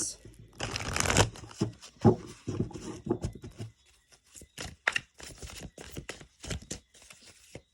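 Tarot cards riffled and shuffled close by in a dense flurry, then slid and drawn with scattered soft snaps and taps, quiet stretches between.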